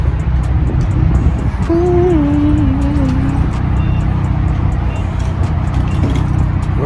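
A brand-new 2021 Dodge Scat Pack's engine runs with a steady, loud, deep rumble that continues throughout, with a faint brief voice-like tone partway through.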